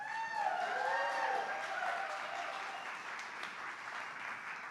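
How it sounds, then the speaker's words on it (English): A gala audience gives a steady, full round of applause, a dense wash of clapping that swells early and then gradually tapers, with faint whistles or cheers over it. "we should have a very loud round of applause for Konstantin."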